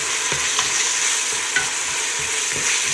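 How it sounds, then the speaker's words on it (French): Minced meat filling for samosas stirred in a hot pan, a steady sizzling fry with the scrape of a utensil moving through it in irregular strokes, close and alone with no talk. "Il faut vraiment laisser un peu bien mijoter. Que ça soit vraiment bien mélangé."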